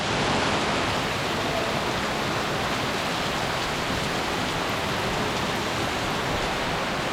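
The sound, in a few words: heavy rain downpour at temple in Thailand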